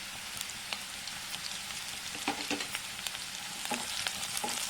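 Sliced onions and green chillies frying in a pan over a medium flame for pulao, a continuous close sizzle broken by sharp crackles and occasional stirring clicks, with no talk.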